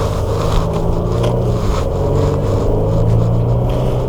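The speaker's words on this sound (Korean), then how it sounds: "GLC를 지금 타보니까 확실히 느끼는 점은 엔진 이런 질감 자체가 좀 거칠어요" A Mercedes GLC300 SUV's engine runs while driving, a loud, steady low rumble with road noise heard from inside the cabin, continuous and slightly rough throughout.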